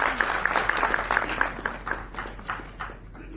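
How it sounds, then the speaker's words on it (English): Applause for the junior and senior group winners of a PPT contest, a short burst of clapping from a small audience that fades out after about three seconds. "We will use a round of applause to both the winners, junior group and senior group."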